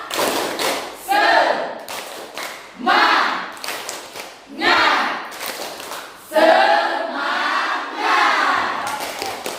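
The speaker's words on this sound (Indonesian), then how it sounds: "Yuk, tepuk semangat." A school class performs a rhythmic spirit clap (tepuk semangat), loud bursts of group clapping and chanting voices in repeated phrases separated by short pauses, close and energetic.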